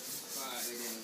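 Short scratchy rubbing strokes of sandpaper on wood during boat building, close and brisk, repeating in a quick back-and-forth rhythm.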